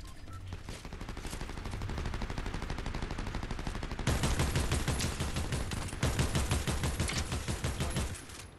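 Rapid, sustained automatic gunfire from a Fortnite competitive match, dense overlapping shots rattling almost continuously and growing louder and heavier in the second half.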